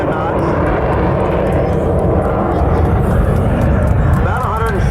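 Military jet aircraft with gear and flaps down making a slow pass at about 145 knots at an air show, a loud, steady engine roar filling the whole stretch, with a rising whine near the end.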